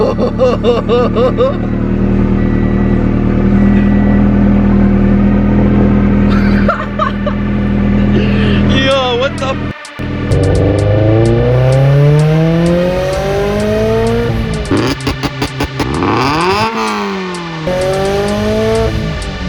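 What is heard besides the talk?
Turbo Subaru BRZ starting with Tomei exhaust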